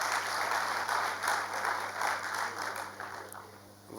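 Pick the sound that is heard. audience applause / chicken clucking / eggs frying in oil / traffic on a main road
audience applause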